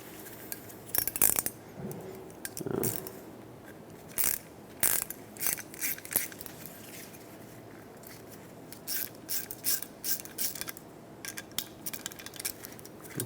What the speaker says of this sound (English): use an E5, that's an inverted Torx socket, on the head of the stud here, and then just a 10mm wrench on the nut